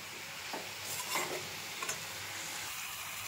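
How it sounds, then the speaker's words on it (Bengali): Papad fries in hot oil with a soft, steady sizzle, and a few faint scrapes and clinks from stirring break in quietly. "পাঁপড় ভাজা চলছে"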